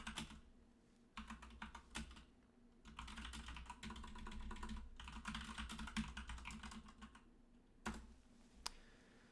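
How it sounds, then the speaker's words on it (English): Fingers type a query on a computer keyboard in quick bursts of soft, close key clicks with short pauses, quiet and alone. "So let me type in a query."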